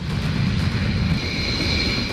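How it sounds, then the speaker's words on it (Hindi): Two Rafale fighter jets flying, scrambled by the air force over Imphal; a continuous deep jet roar with a high whine rising in the middle, steady and loud throughout, no voices. "रहस्यमयी वस्तु को पकड़ने के लिए वायुसेना ने दो रफाल फाइटर उड़ा दिए।"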